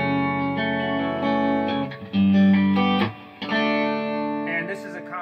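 An electric guitar played through a John Fisher middle single-coil pickup on a clean amp channel, sounding sustained chords and single notes with ringing tones and a louder strum midway.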